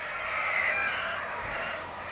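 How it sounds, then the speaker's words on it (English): Roosters and chickens kept very close to a house crow steadily in the background, a continuous moderately loud call with no talk over it. "I have so many roosters and chickens very close to my house"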